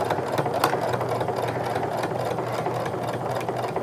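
Sewing machine stitching slowly around the edge of a sling bag along a stitching line, a steady mechanical whir with fine rapid needle pulses, close and continuous, no talking.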